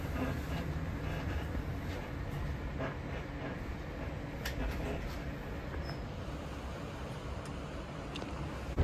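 A long, shaky suburban train on the North Clyde Line in Scotland rumbles along heard from onboard, a steady dense roar of wheels and carriage rattle with faint clicks throughout, no talk.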